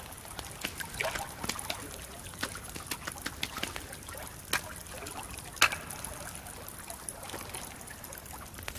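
Water trickling and flowing in the survival video game The Forest, a continuous soft babble with scattered brighter splashes and drips, steady and fairly close.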